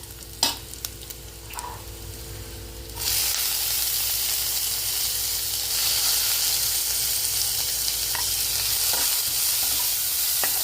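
Poha is stirred in a pan, a few clinks and scrapes giving way to a loud, steady sizzle of frying that continues to the end, with occasional utensil knocks.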